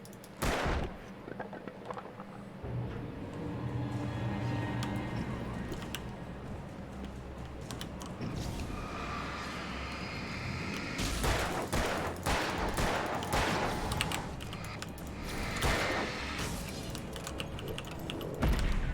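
Gunfire in the horror video game Alan Wake, a dense spread of sharp shots and bursts over a dark rumbling game soundscape, growing busier and louder in the second half.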